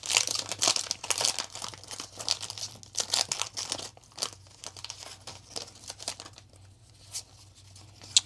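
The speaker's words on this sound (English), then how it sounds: "So these are quickly going to be replaced when I crack these envelopes open." Trading card pack envelopes tear open and crinkle close up, a run of sharp papery rips and crumpling bursts that thin out to sparse rustles toward the end.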